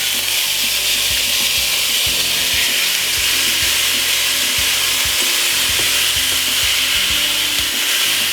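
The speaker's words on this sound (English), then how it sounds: "what we're going to do is put in that beautiful oxtail" Oxtail sizzling loudly in a hot pot with garlic, a constant dense frying hiss with scraping stirring sounds mixed in, close and steady throughout with no talking.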